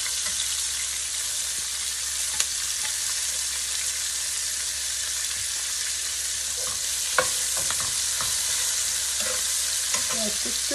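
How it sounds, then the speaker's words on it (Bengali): Cumin seeds tempered in hot oil with onion, green chili and naga chili, giving a steady broadband sizzle throughout with occasional soft stirring clinks and scrapes, close and continuous with no voices. "এখন আমি এই তেলের মধ্যে একটু জিরা ফোড়নি দিয়ে দিব, আর আমি পেঁয়াজ আর কাঁচা মরিচ আর সাথে একটু 2 নম্বরি মরিচ দিছি"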